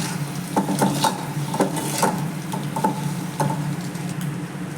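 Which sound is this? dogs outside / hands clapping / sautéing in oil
sautéing in oil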